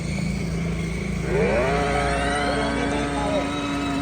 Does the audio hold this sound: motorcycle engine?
yes